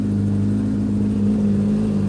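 A motorcycle engine with a K&N air filter revs hard, a loud, sustained mid-pitched roar that holds steady and slightly rises over two seconds.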